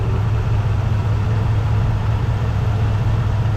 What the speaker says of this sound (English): Look at that beast of an engine.